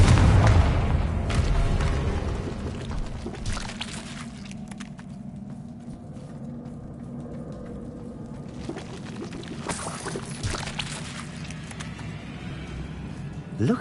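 A Confringo fire spell explodes in Hogwarts Legacy, opening with a deep, loud boom that rumbles and fades into a long low roar, with a sharper crackle burst later on.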